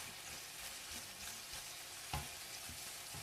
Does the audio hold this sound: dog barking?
no